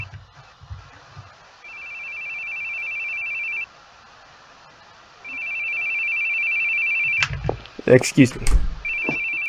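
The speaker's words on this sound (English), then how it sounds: "Where are you hearing a phone ringing?" A telephone rings in long repeated electronic trills, with two extended bursts separated by a pause. A brief voice speaks over thumps and clatter near the end before the ring starts again.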